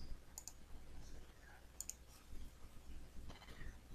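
Two crisp pairs of computer mouse clicks while using the deskUNPDF PDF conversion program, faint and close, followed later by a softer click in a quiet room.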